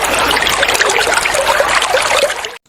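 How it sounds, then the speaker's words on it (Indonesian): River water flows and trickles steadily over stones, a close, bubbling babble that runs without pause before ending abruptly. "suara air sungai yang sedang mengalir sampai jauh"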